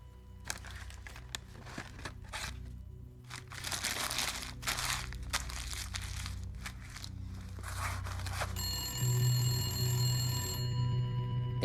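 A telephone rings repeatedly in the video game The Gallery, a faint trilling bell in short bursts over soft crinkling and shuffling noises, growing into a steadier ringing tone near the end.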